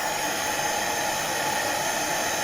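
A Dyson Cinetic vacuum cleaner runs right after a repair, giving a loud, steady broadband whoosh and hiss of rushing air that holds unchanged throughout, with no talking.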